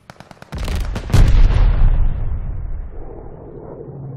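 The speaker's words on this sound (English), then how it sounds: "Tossing grenade." A grenade blows up in the online shooter Call of Duty: Vanguard, opening with a few soft clicks, then a loud, heavy boom whose rumble rolls and slowly dies away over several seconds.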